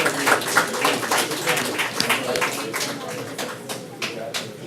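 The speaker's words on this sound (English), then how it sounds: "Congratulations to all of you. Big round of applause." Audience at a city council meeting giving a round of applause, a dense burst of clapping that thins to scattered claps, with voices talking over it.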